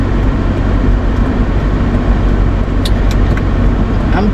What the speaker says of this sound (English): The long line of traffic.